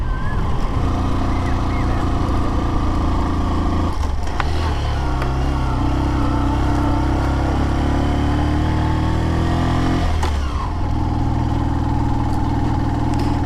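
Low-cc motorcycle engine labours under heavy throttle while climbing a rough rural road in Jharkhand, a steady loud drone with brief dips near four and ten seconds before pulling again.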